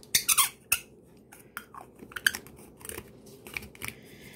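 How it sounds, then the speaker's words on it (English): Glass jar lids squeak as they are screwed onto a set of jars, giving several sharp, close squeaks and scrapes in quick bursts near the start, followed by fainter intermittent creaks and clicks. "Don't mind my squeaky jar sounds."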